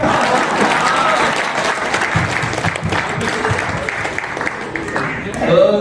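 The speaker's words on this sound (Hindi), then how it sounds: "तालियां बजाइए ना, बड़ा अच्छा लगता है" A stand-up comedy audience applauds in a sustained burst of dense clapping that fades slightly before swelling again, with a voice speaking over it near the end.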